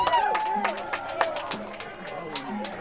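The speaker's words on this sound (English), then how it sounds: "listen to this crowd" Crowd at a college baseball playoff game, San Jose City College versus Cosumnes River, cheering and clapping in scattered bursts beneath close commentary voices.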